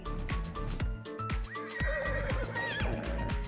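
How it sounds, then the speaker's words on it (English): A horse in the video game Ark: Survival Evolved lets out a loud, clear whinny over steady rhythmic hoof clops and a constant game background hum. "I tamed the horse."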